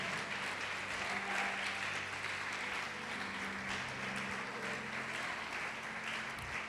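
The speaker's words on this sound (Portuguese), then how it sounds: "Você pode aplaudir o Senhor?" A church congregation applauding during a sermon, a continuous wash of clapping from many hands, moderately distant, with a low sustained tone underneath and no clear speech.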